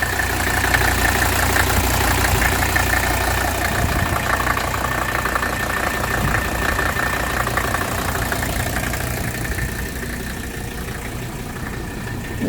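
A 1981 Mercedes 300SD diesel engine in excellent condition idles steadily up close, a continuous low rumble with a faint knocking clatter running throughout, holding level before easing slightly near the end.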